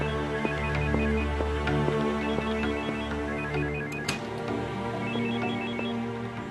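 A telephone rings with a steady repeating electronic ring, set against a continuous bed of background music with no voices.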